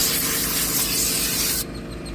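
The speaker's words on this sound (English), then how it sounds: "The little spray gun does the trick." Air spray gun blowing dirt out of a car interior during detailing: a loud, close, hissing blast that runs continuously, then cuts off abruptly near the end.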